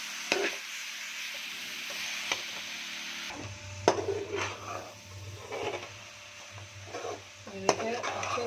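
Carrot halwa with milk powder being stirred and roasted in a pan: a steady sizzling hiss with scraping spoon strokes and occasional clinks, a low hum entering partway, no speech.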